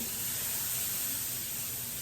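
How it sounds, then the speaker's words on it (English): Warm stock poured into a hot pan of dark roux for a Cajun sausage and shrimp pie sends up a steady, loud hiss of steam that stays broad and unbroken throughout, with no voices over it. "And you can hear that steam."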